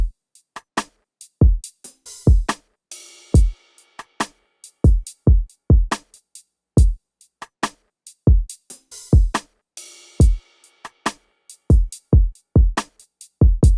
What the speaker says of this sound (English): Then I just added the extra percussion that all sounds like this.